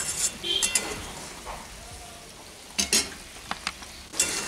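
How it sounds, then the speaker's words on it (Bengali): Egg curry gravy simmers in a pan after fried eggs are added. A soft, steady sizzle runs beneath scattered, close utensil clinks and taps against the pot. "ডিমটাকে দিয়ে আরো কিছুক্ষণ ফুটতে দেব।"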